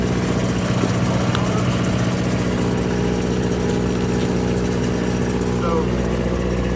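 A commercial pressure washer's engine runs steadily after starting, a loud, constant low rumbling drone with harmonic hum, close by, with a voice talking over it at times.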